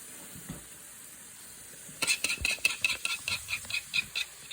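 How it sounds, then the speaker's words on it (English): Hot glaze drizzled onto skillet monkey bread, a quiet lead-in, then a burst of crackling, spitting sizzle pulses close by for the last couple of seconds. "Yeah, that bad boy sizzle."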